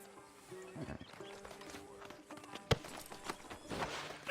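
Horse hooves clip-clop at a steady walking pace in a Red Dead Redemption 2 town scene outside a sheriff's office, moderately close and fairly faint beneath background game sound, with a sharp knock midway.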